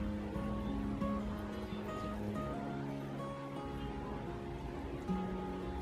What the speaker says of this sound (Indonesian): Ini botolnya enak, bisa diatur mau disemprot atau di siram model lurus gitu. Nih, gitu nih. Aku siramin gini.